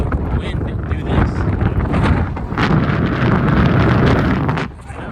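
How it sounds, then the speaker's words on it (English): Heavy wind buffets the microphone of a bike rider, a loud, close, rumbling roar that swells and drops unevenly, with voices partly buried beneath it. "Since when did the wind do this?"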